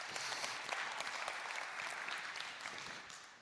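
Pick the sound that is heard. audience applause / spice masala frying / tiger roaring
audience applause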